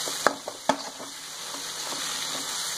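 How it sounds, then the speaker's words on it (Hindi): Pav bhaji masala fries in a pan with a quiet, steady sizzle. A couple of sharp spoon clinks near the start are followed by softer stirring scrapes. "इसे अब हम अच्छी तरह भून लेंगे"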